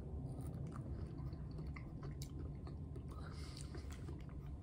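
Close, wet, squishy chewing of a slice of Philippine fruit as it is tasted, with irregular soft bites and mouth sounds over a noisy outdoor background.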